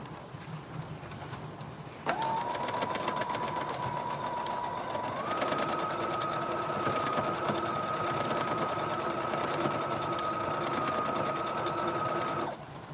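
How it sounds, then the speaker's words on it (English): Sewing machine stitching Ankara fabric for a shoulder shrug starts after a short quiet lead-in, then runs steadily and loudly with a constant mechanical whir and shifts to a slightly faster pace partway through before stopping near the end. "Join it together and sew."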